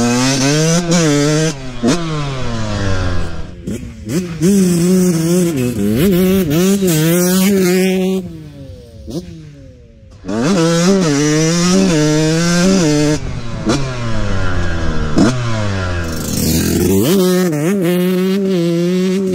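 A Yamaha YZ144 two-stroke dirt bike with a thumb throttle revs hard to full throttle close by, rising and falling in repeated screaming sweeps with a short dip in the middle, no voices.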